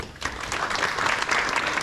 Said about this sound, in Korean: 좋은 말씀해주신 고영리 국회의원님께 다시 한번 뜨거운 박수 부탁드리겠습니다